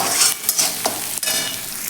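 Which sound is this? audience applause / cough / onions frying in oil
onions frying in oil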